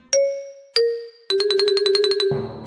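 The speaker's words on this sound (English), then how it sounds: "Peppa touches the bell, and it rings softly." A small bell in an animated Peppa Pig arcade horror maze story rings in two separate clear chimes, then a fast run of about ten rapid dings, ending in a brief noisy jingle, close and bright with no talk.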